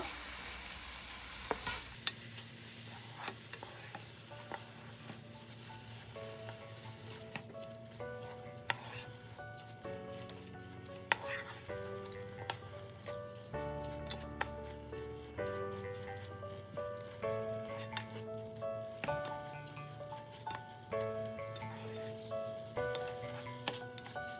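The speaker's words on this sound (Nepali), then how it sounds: "अब यसलाई एकछिन यसरी चलाउँदै भुट्नुपर्छ।" Soaked basmati rice being stirred and fried in a pot, a soft continuous sizzle with light scraping, faint and partly buried under steady background music, no talking.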